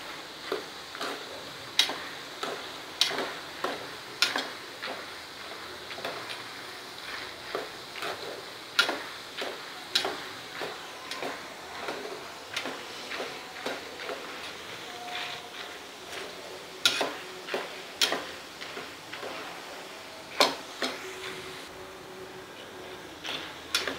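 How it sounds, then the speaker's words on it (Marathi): Roasted chana dal sizzles and crackles in hot oil while being fried for poha chivda, with a soft, steady frying hiss punctuated by regular sharp pops and ticks throughout. "ह्याला पण अर्धा मिनिट लागेल ह्या डाळ्या भाजायला तळायला"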